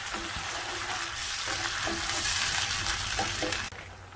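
Steady loud sizzling and frying of tomato paste with bulgur fills the clip, with a brief stir partway through and a sudden drop in the hiss near the end as water goes in.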